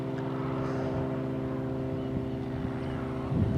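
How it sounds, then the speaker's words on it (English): Light propeller planes take off near the coast between Perranporth and St Agnes in Cornwall, a steady droning engine hum held under wind noise throughout, with no talk. "Lots of little light planes taking off around here."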